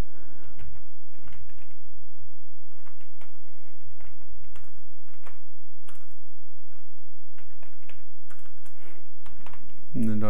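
Someone types an email address on a computer keyboard in quick, uneven bursts of close, light key clicks, with short pauses between runs.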